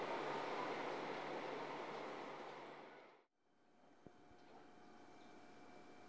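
A local train rumbles loudly as it rolls into Kintetsu Hirahata Station in Japan and fades to a stop, followed by quieter station ambience with a faint tone and a small clunk.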